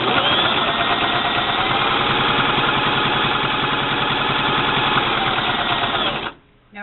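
A Brother LX3014 sewing machine runs a straight stitch, a loud, steady rapid mechanical whirring with fast needle clatter that continues unbroken for about six seconds, then stops abruptly.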